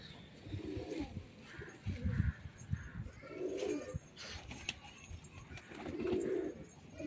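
Old pet pigeons, six to seven years old, coo in low, throaty bursts repeated at intervals, close by and moderately loud, with faint background chirps and no talking.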